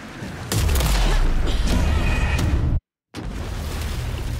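Gunfire in the video game Alan Wake 2 comes as loud, dense bursts and booms that rumble continuously for several seconds, cut off by a brief silence, then resume.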